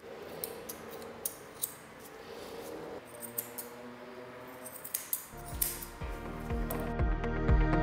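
Grooming scissors snip through a frightened rescue dog's fur in a series of sharp, close clicks at an uneven rhythm, with a brighter tonal layer rising toward the end.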